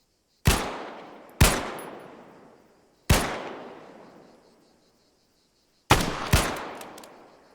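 Single gunshots at an outdoor shooting training session, five sharp loud reports spaced irregularly, each followed by a long fading echo ringing out across the range.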